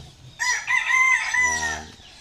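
A single mestizo rooster crows loudly and close, one long strained call that rises, holds, then drops into a buzzy ending.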